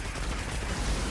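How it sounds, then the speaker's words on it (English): Plasma cannons on a Pike vehicle in the Destiny video game fire in a dense, continuous barrage during a solo nightfall strike, with rapid overlapping blasts and no talking. "Once his shield's down, the pike's plasma cannons really just shred him."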